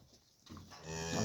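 A Swiss-breed cow moos once, a loud, drawn-out call that swells toward the end and is heard alone on a farm with nothing else audible.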